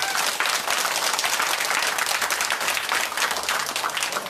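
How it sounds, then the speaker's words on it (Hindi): Applause comes from the audience at a satsang gathering in Bhawanipur, Kolkata, as a dense, loud, continuous wash of many hands clapping together that holds steady for over four seconds. "खूब ताली बजा के जोर करे"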